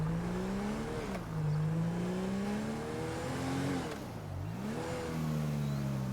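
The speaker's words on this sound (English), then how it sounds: "I'm just going to borrow the sheriff car" A sheriff police car driven in GTA V gives a steady, loud engine drone whose pitch climbs and drops with each gear change and rev, with no voices.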